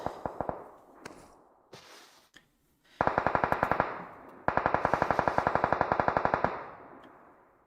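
Automatic gunfire in a battle royale video game: a few scattered shots, then two long rapid bursts of sharp, evenly spaced cracks, loud and close with no talk.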